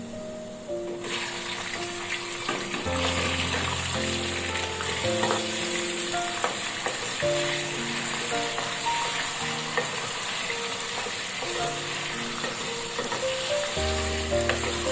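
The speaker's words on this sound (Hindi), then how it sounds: "चिकन को अच्छे से भून लेंगे हम" Chicken fries with browned onions in a pan, giving a loud, continuous sizzle with occasional spoon scrapes and clinks over fifteen seconds, and no voices are heard.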